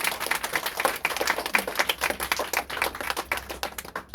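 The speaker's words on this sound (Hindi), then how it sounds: "तो इस वजह से हम सभी जोरदार तालियां जो लक्ष्मी नगर तक पहुंच जाए।" A gathering of sisters at a Shivratri flag-hoisting in Ganesh Nagar, Delhi, claps loudly, with uneven bursts of hand claps swelling and dipping for several seconds without speech.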